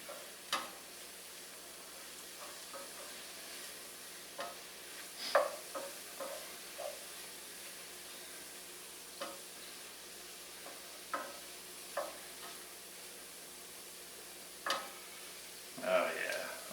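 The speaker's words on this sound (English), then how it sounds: "Stirring up till all the white of the flour is covered or mixed in, just like that." Flour being stirred into ground beef in a hot pan, soft sizzling under a string of scattered scraping and clinking spoon strokes, close and fairly quiet.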